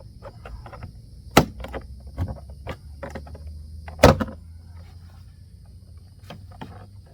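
A pry tool pops the door trim panel clips off a Chevy Silverado truck door, giving two loud sharp cracks amid several smaller plastic clicks and knocks, close up over a quiet background hum.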